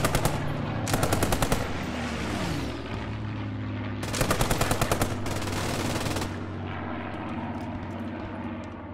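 Bursts of machine gun fire in the World War II shooter Post Scriptum, with Bren, Browning and MG 42 guns, rattling out in two rapid loud volleys over steady engine and battle rumble.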